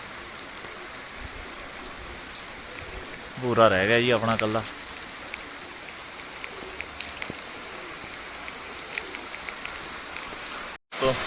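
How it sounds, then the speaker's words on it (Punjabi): Steady rain hisses throughout, a dense broadband wash, with a short burst of speech partway through. "ਮੀਂਹ ਬਹੁਤ ਤੇਜ਼ ਪੈ ਰਿਹਾ ਦੋਸਤੋ"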